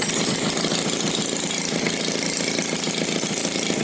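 A Maytag model 72 washing machine engine runs with its muffler removed, a steady, loud, rapid mechanical clatter that continues without a break.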